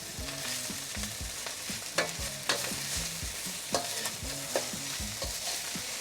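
Leftover rice stir-fried in a hot pan with eggs and beef. A constant sizzle carries rhythmic spatula scrapes and taps against the pan, with faint melodic music running underneath and no voices.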